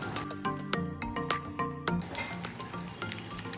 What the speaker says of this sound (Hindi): 1 किलो बीफ डाल दें इसमें, वो बॉईल किया हुआ।